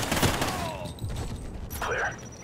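Cartoon-style gunshot effect in Call of Duty: Ghosts, a quick burst of sharp shots with whizzing tails over roughly two seconds, moderately loud, with game ambience behind.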